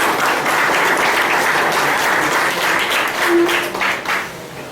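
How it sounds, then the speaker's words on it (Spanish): Sustained audience applause at a formal ceremony for a director, a dense, even wash of many hands clapping that holds steady before tapering off near the end, with a brief voice in the background. "Un fuerte aplauso para la directora."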